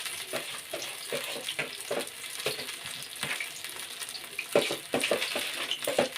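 Börek sizzles and crackles in a frying pan at home, close and steady with rapid irregular pops and a few stirring clicks, no talk.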